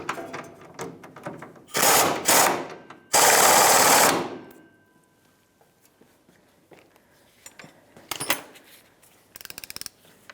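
Power tool with an 18mm socket snugging the rear shock mount bolt on a 1992-1996 Ford F-150, two loud whirring bursts, the second longer, followed by quieter clicks and a short rattling ratchet burst near the end.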